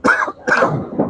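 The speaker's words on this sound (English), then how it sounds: "Sorry about that cough" A single person coughs twice in quick succession, close and fairly loud, with a short raspy follow-up, over the background of a bowling alley during a league night.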